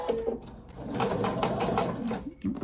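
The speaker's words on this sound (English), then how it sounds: "And then you go ahead and sew this next seam to the next corner" A sewing machine runs in short, rapid bursts of needle chatter, stitching a quilt seam close by, with brief pauses between runs.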